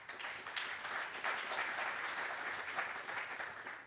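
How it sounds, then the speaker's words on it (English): Applause from an audience at a green hydrogen energy panel in a conference hall, steady and moderately quiet throughout, a dense wash of many hands at some distance with no voices. "A round of applause for Fergus Altman."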